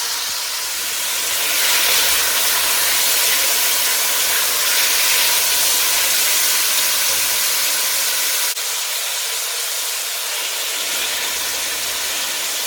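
Beef for Texas chili browning in a hot pot, one batch at a time, giving a steady loud sizzle and hiss that carries on without a break and has no voices over it.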